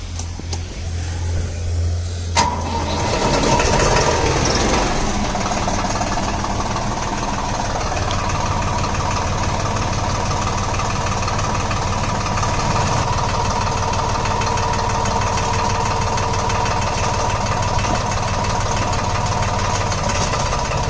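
Tractor engine fitted with a hydraulic power lift jack attachment cranks and fires up, then settles into a steady, loud diesel idle with a continuous low rumble and knocking throb.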